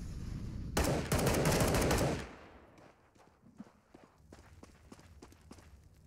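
A rapid burst of gunfire rattles for about a second in a CS:GO match on Dust2, loud and close, followed by quieter scattered footsteps and faint clicks.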